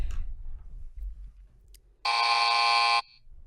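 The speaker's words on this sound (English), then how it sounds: "give me that buzzer when we're ready to start" A single loud, steady electronic buzzer blares for about a second, set against a quiet low rumble.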